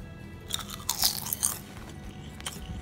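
Crisp crunching bites of broccoli chips, several sharp crackles up close followed by quieter chewing.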